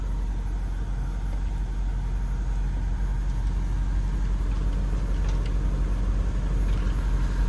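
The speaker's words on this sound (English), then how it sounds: "Freaking traffic." Continuous road traffic rumbles nearby, a steady low engine drone with passing vehicles and occasional faint brake hiss, no one speaking.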